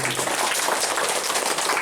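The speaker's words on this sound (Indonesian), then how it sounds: "Tepuk tangan dulu." Dense applause fills the room at a volunteer declaration rally in Mataram, a steady wash of many hands clapping at once with no voices on top.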